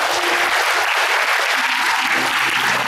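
Sustained applause from an audience at a church conference session, a steady dense clatter of many hands clapping throughout, loud and continuous with no voices standing out.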